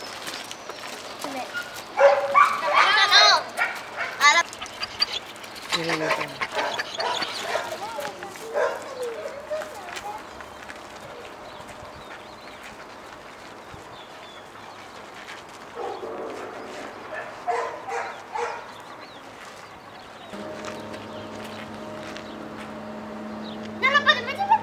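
Mastiff dogs bark and yip in repeated loud bursts close by, with whimpering between them, while people talk throughout.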